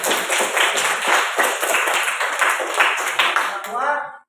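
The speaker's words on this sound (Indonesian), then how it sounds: "Beri aplaus untuk kita semua" Classroom applause from students in an Islamic studies lesson, a dense steady patter of many hands clapping for about four seconds before stopping abruptly.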